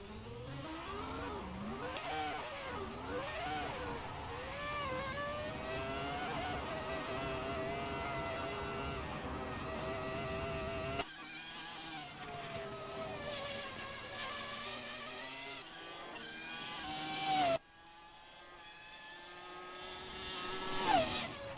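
Group C racing car engines in Assetto Corsa at Goodwood Festival of Speed drone and whine steadily, pitch rising and falling as they rev, then cutting to quieter engine passes with brief higher squeals.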